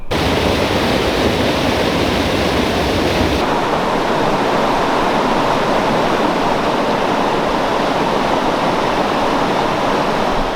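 A waterfall roars as a steady, loud broadband rush filling the whole clip, with no voices over it, heard on a spring turkey-hunting trip in Rhode Island.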